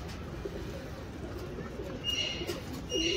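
A Firozpuri pigeon cooing close by, soft low coos over a steady background hum with a few brief higher chirps.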